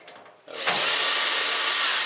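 A power drill whines steadily as it backs a single screw out of the electrical-part cover on a Samsung dryer's front assembly; after a faint rattle, the motor spins up and holds a loud, continuous high-pitched drone for over a second before cutting off.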